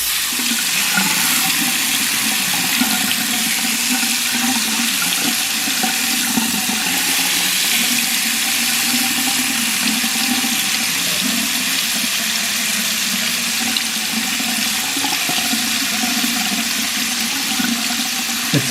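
Tap water runs steadily from a faucet into a sink while freshly cleaned silver is rinsed, a continuous even rushing splash with no pauses or voices.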